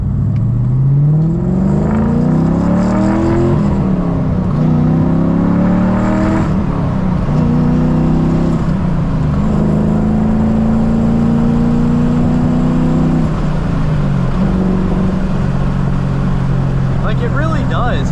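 Cammed 450HP G35 engine revving while driving, a loud, rough, lumpy drone that rises and drops through several gear pulls, heard close from inside the car with speech partly under the engine.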